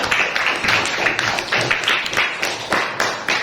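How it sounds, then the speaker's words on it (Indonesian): A class of students applauding a classmate in a schoolroom, with brisk, uneven clapping that carries on for the whole few seconds at close, moderate loudness. "berikan tepuk tangan untuk Amel ya"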